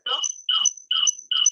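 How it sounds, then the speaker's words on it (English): A phone chirps out four evenly spaced electronic tone bursts during an online meeting, loud and close, with no one speaking over it. "Somebody's phone is making noise."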